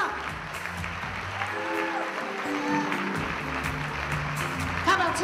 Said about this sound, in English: Clap like you just got an Academy Award.